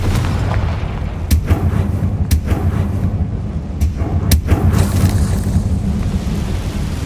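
Confringo fire-spell blasts in the Hogwarts Legacy game on PS5, several sharp loud booms at irregular intervals over a steady rumbling game background.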